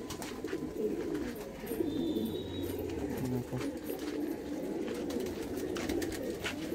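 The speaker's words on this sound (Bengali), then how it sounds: "অনেক পায়রা, বাপরে বাপ।" Many high-flying Andhra pigeons in a loft coo together in a dense, continuous rumbling chorus, full and close with no pauses.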